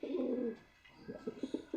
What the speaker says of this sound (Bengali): গিরিবাজ কবুতর অনেক ডাকে।